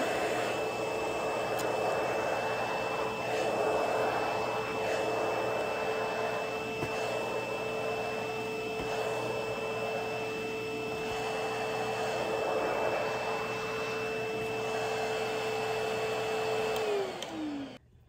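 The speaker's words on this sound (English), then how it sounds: "I'm going to grab this hair, and I'm going to push it into the vacuum" A pet grooming kit's vacuum runs steadily on dog hair, a loud, even motor hum with a constant whine that holds for most of the stretch before spinning down at the end.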